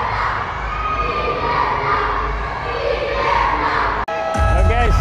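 A Ginebra basketball crowd in an arena cheers and shouts in a loud, dense roar that holds steady, then breaks off sharply and comes back at full volume with louder, brighter yells.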